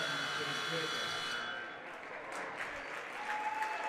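A basketball crowd applauds a player substitution at a women's college game, LTU against Cornerstone University, steady clapping that swells and then thins slightly, with a commentator's voice running over it.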